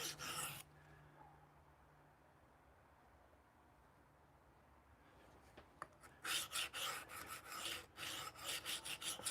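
A knife sharpened back and forth on a very coarse diamond plate: a faint, hissy rub at first, then a run of quick, rhythmic gritty strokes, close by, with no speech.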